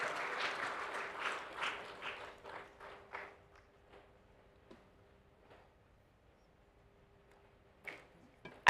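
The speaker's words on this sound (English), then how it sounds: "A round of applause for him." Applause from a seated audience at a Lagos interactive session: a burst of clapping that fades over about four seconds to scattered claps, with a few isolated claps later.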